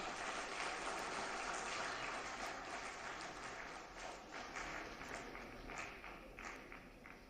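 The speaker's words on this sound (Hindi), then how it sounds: "एक बार ज़ोरदार तालियों से इस्तक़बाल।" An audience at a ceremonial stage event applauds to welcome a speaker, a sustained dense clapping from a crowd, fairly distant and even throughout.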